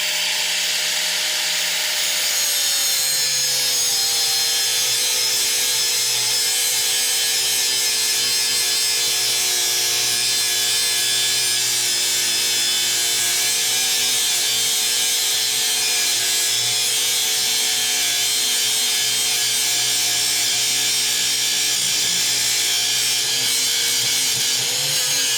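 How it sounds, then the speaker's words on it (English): A loud power tool grinds steadily through a piece of scrap metal for an airgun target, a continuous high-pitched whine and rasp with a slight drop in pitch early on as the blade bites in. "we're gonna cut this whole piece off"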